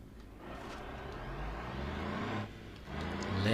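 A car in the BeamNG Drive driving game pulls away at full throttle, a steady loud engine drone with a slight dip before it swells again toward the end, with no talk over it.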